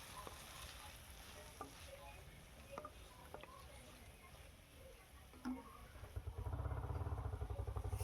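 Tomatoes sizzle softly in a pan amid faint stirring clicks, then the frying grows louder and steadier near the end; the sound stays quiet overall.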